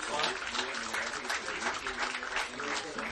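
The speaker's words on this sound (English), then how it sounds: "a huge round of applause for your 2015 Southern Wells Homecoming Class representatives" A crowd claps and cheers steadily at a high school football homecoming at Southern Wells, with a public address voice speaking over the applause.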